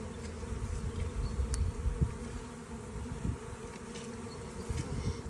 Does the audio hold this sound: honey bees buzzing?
yes